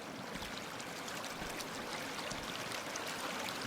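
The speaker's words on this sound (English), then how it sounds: "This is water." Steady running water streams and trickles inside the Inunaki Tunnel horror game, a continuous broadband wash at even loudness with no speech over it.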